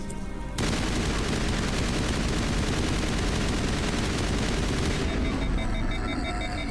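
Sustained gunfire in Mass Effect, a dense continuous rapid-fire roar lasting several seconds, loud and close, with game sounds settling after it stops.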